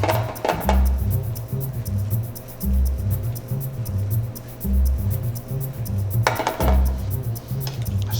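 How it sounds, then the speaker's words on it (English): Risotto with Parmesan and butter being stirred in a pan, a steady, close scraping and rattling of utensil on metal with occasional brighter clinks over a low, continuous rumble, and no talking. "Stir it around a little bit"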